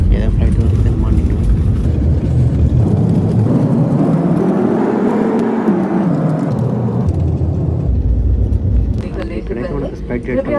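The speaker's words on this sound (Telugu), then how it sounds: "ఇక్కడైతే మనకు స్పైట్ జెట్ ఫ్లైట్ అది వచ్చి బోయింగ్ పెద్ద ఫ్లైట్ అది." A large SpiceJet Boeing passenger jet roars loudly and continuously, its engine drone swelling and sweeping up then down in pitch as it passes, with a voice talking over it.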